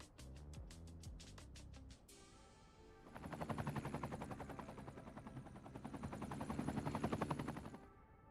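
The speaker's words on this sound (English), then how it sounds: "The helicopter is going to fly over because it's patrolling." Patrolling helicopter passing overhead in the city-building game Cities: Skylines 2, a steady rotor thrum that swells from the third second and holds loud before fading, with no one speaking.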